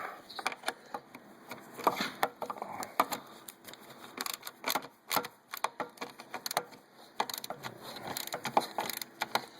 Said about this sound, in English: I'm going to grab our 10mm socket here. And we just tighten this thing down.